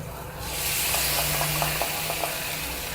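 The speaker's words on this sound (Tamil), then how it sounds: "இப்போ நம்ம அந்த தக்காளி அரைச்சி வச்ச பேஸ்ட்டை உள்ளே ஊற்றிடுறேன்" Ground tomato paste poured into hot oil in a pan, setting off a loud, steady hiss and sizzle that swells after a brief quieter start, with a few faint spatters along the way.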